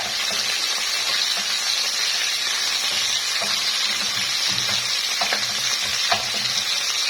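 Ingredients sauté and sizzle steadily in a pot for molokhia with rabbit, as a spoon stirs now and then with light scraping clicks over a continuous frying hiss, with no talking.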